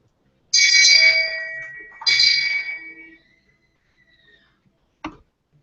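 A large bell tolls twice in a scene from a fantasy TV series, each strike loud and ringing out with a long decaying hum, followed by a short, sharp clink after a pause.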